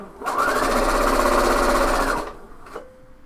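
A sewing machine stitches a garment hem in one steady, loud, close whirring run of about two seconds, then stops with a brief click and a faint motor tone.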